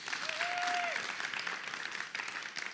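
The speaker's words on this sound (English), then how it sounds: "Can we give Tyler another round of applause?" Audience applause at a community gathering, a steady wash of many hands clapping at moderate level, briefly overlapped by a short sustained tone near the start.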